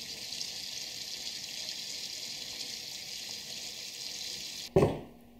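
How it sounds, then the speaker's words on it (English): Hot water runs steadily into a kitchen sink for a homebrewing soak, a broad even hiss lasting several seconds before the flow cuts off with a sharp clunk and a brief fading splash. "I'll fill the sink up with some hot water"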